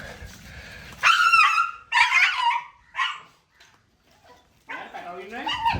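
Street dogs at a rescue in Sri Lanka bark, yelp and whimper close by in several sharp bursts separated by brief pauses, with a final rising whine at the end.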